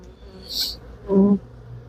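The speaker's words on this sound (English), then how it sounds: "these bees are still hounding me" Honey bees buzzing around an opened beehive whose honey frames have been removed, with a couple of close, brief buzzing passes heard against a low outdoor background.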